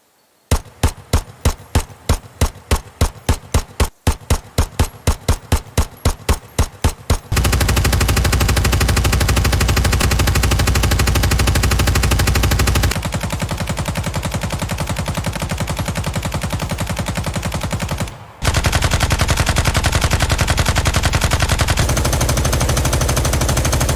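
Weapons fire in the tactical shooter Ground Branch: a rapid, evenly spaced string of loud single gunshots, followed by dense continuous automatic fire that carries on with only brief breaks.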